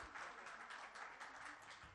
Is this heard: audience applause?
yes